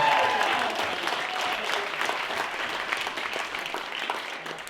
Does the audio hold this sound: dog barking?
no